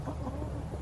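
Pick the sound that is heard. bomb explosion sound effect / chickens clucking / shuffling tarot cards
chickens clucking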